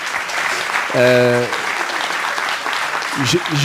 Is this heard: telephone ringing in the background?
no